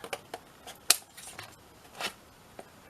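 Scissors snip through journal cover material in a handful of short, crisp cuts spread unevenly across a few seconds, close up and otherwise quiet.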